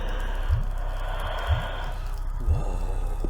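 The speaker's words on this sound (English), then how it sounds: "Listen to that breathing sound." Heavy, rhythmic breathing from a creature in Doom 3, three deep, sighing breaths about a second apart, close and loud over a steady low ambient hum.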